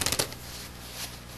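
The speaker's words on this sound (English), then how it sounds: "Go for half the deck, flip it over, and shuffle them in." Playing cards are riffle shuffled close up, with a quick crisp flurry of snaps at the start fading into a soft papery rustle.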